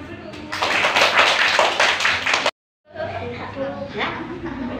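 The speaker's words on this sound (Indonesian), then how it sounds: "Tepuk tangan dulu." A group at a children's health cadre training session claps together in a loud, dense burst for about two seconds, then breaks off into a short silence. Lighter clapping and chatter follow.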